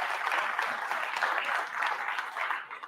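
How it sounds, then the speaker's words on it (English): Audience at a live kayak fishing awards show clapping, a dense, steady burst of applause that holds evenly, then cuts off abruptly at the end. "So big round of applause for GoPro."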